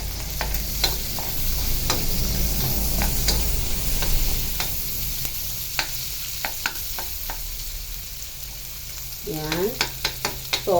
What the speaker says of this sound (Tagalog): mag-fry na mabuti yun, yung ginger natin